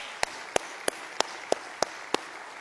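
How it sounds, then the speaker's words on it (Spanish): Single claps ring out at a steady beat in a church service, about seven evenly spaced sharp hand claps over room ambience, with no crowd swell behind them. "Dale un fuerte aplauso al Señor."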